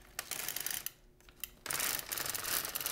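An LK-150 knitting machine carriage is pushed across a row, giving a close burst of mechanical clacking and ratcheting, a short pause, then a second longer, louder rattling pass.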